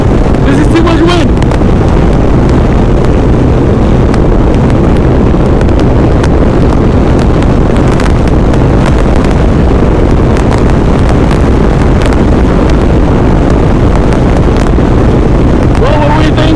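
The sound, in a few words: strong wind in a sandstorm during a ride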